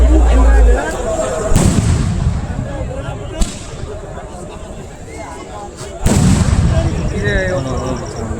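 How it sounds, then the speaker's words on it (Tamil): Firecrackers set on a palm tree burst at a temple festival in Pavalathampatti, Malayanoor, with loud sharp cracks and booming blasts: one big burst, then a sudden jolt and another strong burst later, over crowd noise and voices. "பனைமரத்தில் வச்சு வெடி வெடிச்சாங்கல்ல பனைமரத்தில்"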